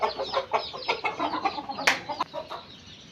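A rooster and hens cluck close by in a quick, uneven series of short calls, with a couple of sharper squawks standing out partway through.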